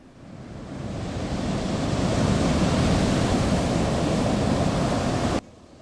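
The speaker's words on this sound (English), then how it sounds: "The wave crashed over Ulterion." A gargantuan tidal wave crashing down, a loud, sustained broadband roar of surging water that swells over about two seconds, holds steady, then cuts off abruptly near the end.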